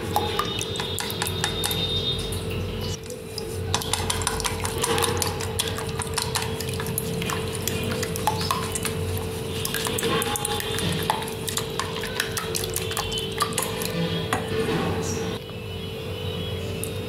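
Three eggs are beaten in a bowl, with rapid clicking and tapping strokes that continue steadily and fairly close for the whole stretch.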